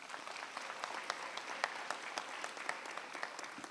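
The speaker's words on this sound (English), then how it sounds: "Can we give them a round of applause?" Audience applause at a university graduation ceremony, a dense, steady wash of many hands clapping at moderate distance, with a few sharper individual claps standing out and no voices over it.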